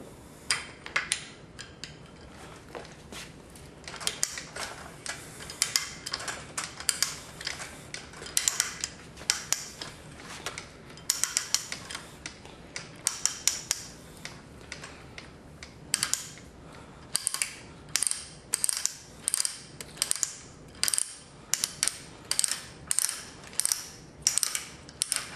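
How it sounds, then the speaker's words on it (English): A pipe threader backs off a threaded length of RMC rigid metal conduit, giving a close mechanical ratcheting and clicking that turns into a steady run of sharp, evenly spaced clicks toward the end, with no talk. "So now you just reverse the threader"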